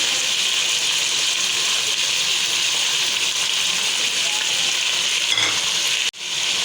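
Ginger garlic paste hits hot oil for chicken Sindhi biryani, a loud continuous sizzle and crackle close up that holds steady for several seconds before cutting off abruptly near the end.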